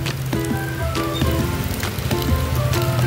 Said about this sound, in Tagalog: grabe ulan dito, sobra, nagdamak ang ulan dito sa amin